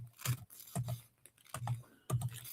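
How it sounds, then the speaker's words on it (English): Keys clatter on a malfunctioning computer keyboard, four short bursts of close, sharp clicks separated by brief pauses. "Got to spell it all out because my keyboard is not functioning well"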